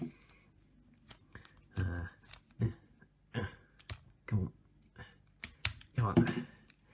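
Plastic blind bag packaging for Star Wars eggs being torn and pulled open by hand, with a series of short crinkling, ripping bursts that come in uneven spurts between pauses, up close, alongside a voice speaking.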